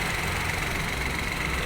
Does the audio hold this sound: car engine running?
yes